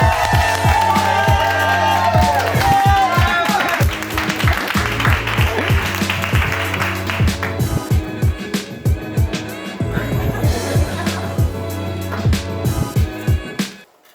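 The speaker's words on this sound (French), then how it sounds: "Je vais vous demander un tonnerre d'applaudissements pour Salim!" A stand-up comedy audience applauds and cheers as the comedian Salim is welcomed to the stage, with steady claps and crowd noise over loud tonal music, thinning toward the end.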